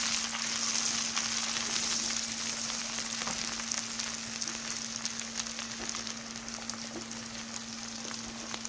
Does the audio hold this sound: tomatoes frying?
yes